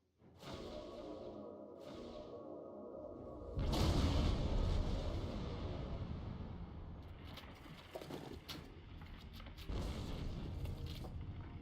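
A protomatter detonation in the Star Trek Online video game erupts as a sudden loud, deep boom about a third of the way through, then rolls on as a heavy sustained rumble with whooshing and creaking debris until the end.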